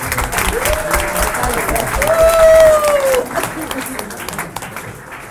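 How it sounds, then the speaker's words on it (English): Wedding guests at the speeches applaud the best man in a full burst of clapping and crowd noise that swells mid-way, with a sliding whistle-like tone and some voices mixed in. "if you would like to give a, a round of applause, please, for my brother and the best man, Mr. Arak"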